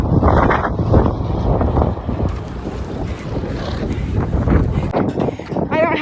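Strong, gusty wind roars continuously across the microphone during an outdoor downhill run. The rumble is loud and buffeting, and a voice briefly talks near the end.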